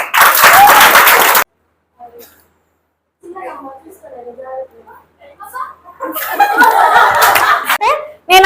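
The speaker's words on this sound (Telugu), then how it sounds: "క్లాప్స్." Audience at a personality development training session breaks into clapping with laughter mixed in, loud and close, first in a burst, then scattered chuckles and talk after a pause, then a second round of applause and laughter.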